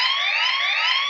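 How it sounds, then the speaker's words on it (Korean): Siren-style KakaoTalk message notification ringtone from a phone, a short rising electronic wail lasting about a second, clear and alone. "그래서 저는 일반 카톡은 사이렌으로 받습니다."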